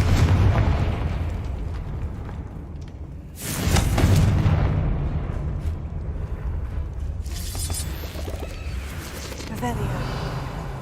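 Confringo fire spell bursting in Hogwarts Legacy, a sharp explosive boom around the four-second mark over a steady bed of game ambience and music, with further rumbling blasts later.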